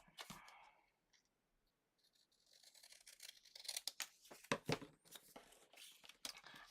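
Scissors cut down the center of patterned paper pieces for a handmade card, producing a run of crisp snips and crinkling paper, close and fairly quiet, with no talking.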